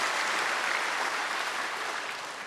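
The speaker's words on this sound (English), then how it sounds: "Give a very strong clap of hand to God." Church congregation clapping hands together during a Sunday evening service, a dense, steady wash of applause that stays loud throughout and fades slightly at the end.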